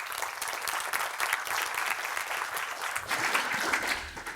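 A conference audience at a women's health innovation event applauds, with steady, dense clapping throughout that sounds fairly distant and a little softer near the end.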